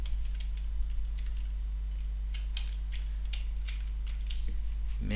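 Quick, light clicks of a computer keyboard as a git command is typed, steady taps over a constant low electrical hum.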